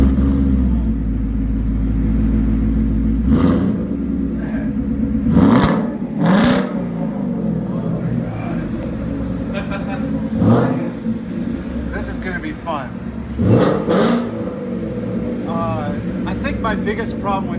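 A 2016 Ford Mustang GT with a 5.0 V8 and six-speed manual idles with a deep rumble, then is revved hard several times in sharp bursts, loud and close, with people talking around it.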